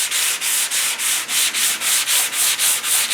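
A 1969 Mustang fender is block sanded by hand with a piece of 180-grit sandpaper, giving loud, close, rhythmic scratchy strokes in an even back-and-forth pattern of about ten passes, with no voices.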